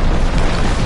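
A loud, close explosion in Just Cause 3 fills the whole short moment as a dense, roaring boom with no pause and no speech.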